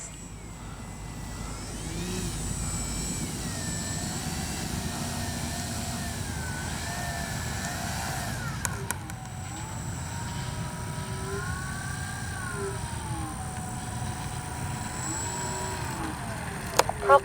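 A Dynam DHC Beaver V2 RC airplane drones steadily overhead, its electric motor whine rising and falling as it banks into the wind, heard at middle distance over outdoor wind noise with a couple of brief handling bumps.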